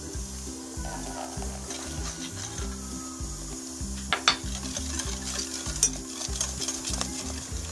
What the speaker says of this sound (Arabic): الزبده دايبه